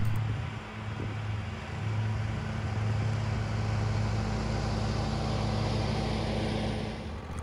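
A Hustler zero turn lawnmower fitted with a mulcher kit cuts grass at normal height, taking off about an inch to an inch and a half, giving a steady, moderately quiet engine and blade drone with no talking.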